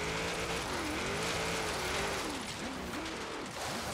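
A 2002 Chevrolet Corvette Z06 revs hard on a hill climb time attack run, its engine screaming loud and close with rising and falling pitch as it shifts through the gears.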